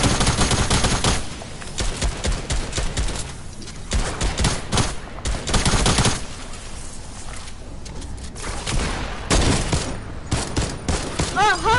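Gunfire from a fire brute in the video game Breakout comes as dense, loud bursts of rapid shots with short gaps between them, and faint talk sits underneath.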